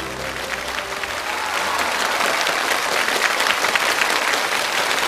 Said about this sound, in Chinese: 再次掌声欢迎子睿入场。